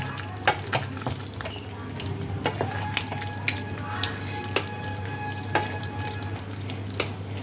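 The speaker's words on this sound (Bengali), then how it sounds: "ক্রিম দিয়ে এটাকে আরেকবার ভালো করে মিশিয়ে দেব।" Navratan korma simmering with cream in a pan on a gas stove, with a low steady sizzle and hum and occasional soft scrapes and knocks of a spoon stirring, close and without talk.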